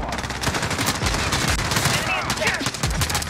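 Heavy automatic gunfire from a 10v10 Call of Duty Modern Warfare match, rapid close bursts from several weapons overlapping in a loud, dense barrage with brief gaps and no speech.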